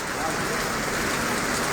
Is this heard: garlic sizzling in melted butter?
no